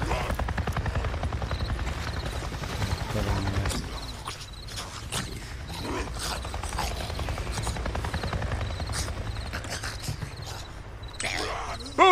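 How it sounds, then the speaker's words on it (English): Helicopter flying overhead in the Days Gone video game, a steady low rotor drone running continuously beneath game sounds and speech. "I just saw a goddamn chopper!"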